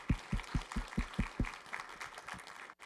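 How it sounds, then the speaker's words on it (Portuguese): Applause for the organizers at the close of a Portuguese-language scientific talk on bacterial infections associated with influenza: a run of sharp, evenly spaced claps up close, thinning into scattered, softer clapping from a small audience before stopping abruptly. "a salva de palmas para os organizadores"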